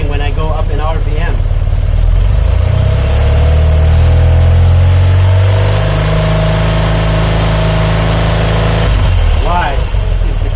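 A BMW airhead motorcycle engine runs steadily and climbs in RPM, with the note rising and holding high before dropping back to idle. It sounds loud and close throughout, with voices talking over the engine at the start and the end.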